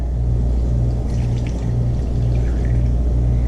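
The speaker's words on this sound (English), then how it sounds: "I add about 1 cup of water in there" About a cup of water poured over dried pasilla and guajillo chiles for birria, a loud, close, continuous pour over a low steady hum from start to finish.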